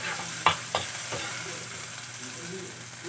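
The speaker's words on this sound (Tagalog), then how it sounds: "Just saute it and make it just like a golden brown." Sliced ginger sautéing in a pan gives a soft, steady sizzle, with a few close clinks and scrapes of a utensil stirring near the start.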